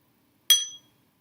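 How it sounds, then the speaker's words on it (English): A single strike of a small meditation bell, a bright metallic ping with a quick attack that fades within about half a second in an otherwise silent room. "The bell will sound like this."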